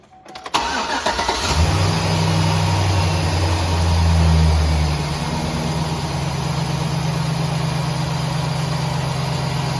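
A car's engine cranks and starts with a quick burst, then settles into a steady, loud idle hum that runs to the end with no one talking.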